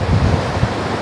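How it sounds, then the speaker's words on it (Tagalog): Floodwater rushes past in a strong, continuous roar with wind buffeting the microphone, loud and close throughout the short stretch. "Ayan mga idol tubig"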